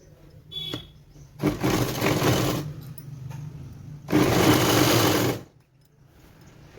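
Sewing machine stitching a petticoat runs in two close, steady bursts, one of about a second and a half and a longer one near the end, with quiet gaps of handling between them.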